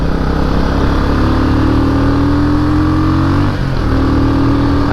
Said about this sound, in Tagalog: Naririnig nyo naman yung engine niya, no? Pag hinaharurot natin, binibigyan na tayo ng power.